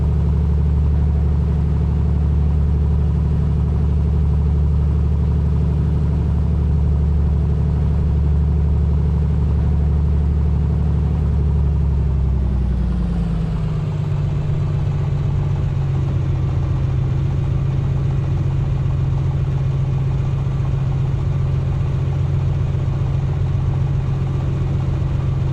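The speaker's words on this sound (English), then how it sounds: "We just need the engine to warm up a little bit" Piston engine of a Piper PA-24 Comanche warming up in MSFS 2024, a loud steady idling drone with a deep low rumble that drops in pitch partway through and then holds, with no talking.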